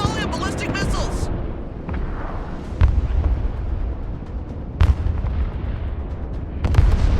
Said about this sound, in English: Another volley of ballistic missiles!